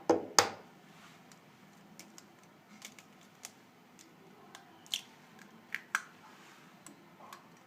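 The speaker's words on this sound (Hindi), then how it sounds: "अब हम इन्हें अपने हाथों की मदद से अच्छे से मिक्स करेंगे।" Hands mixing beef burger mince with garlic-ginger paste, onion, breadcrumbs, mint and egg, producing soft, scattered squishes and sticky taps at irregular intervals against a quiet background, close and fairly faint.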